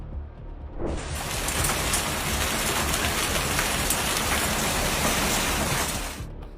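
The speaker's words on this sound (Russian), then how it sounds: "обрушив на пригород Чокто сильные ливни и шквал града размером до 7 сантиметров" A heavy downpour during a severe storm over the suburbs of Oklahoma City, a loud, dense, hissing roar of rain that swells in after a second, holds steady, then fades at the very end.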